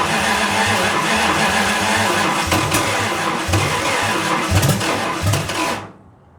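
A 1929 Chrysler engine, primed with a tablespoon of fuel poured into the carburetor, catches and runs roughly with loud uneven chugging and a few revving surges for about six seconds, then cuts out abruptly to silence.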